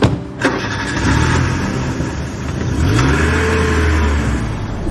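A car engine cranks and catches, then settles into a steady hum and rises as the car pulls away, loud and close from inside the cabin, with no talk.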